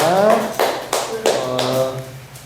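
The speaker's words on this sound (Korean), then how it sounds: "우리 하나님께 영광의 박수 올려드리겠습니다." A church congregation gives a few loud bursts of clapping during a Sunday service, with a voice talking over the applause.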